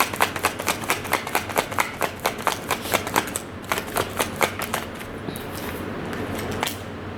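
Tarot cards being shuffled by hand, a rapid run of close crisp riffling snaps in a steady rhythm, thinning out toward the end.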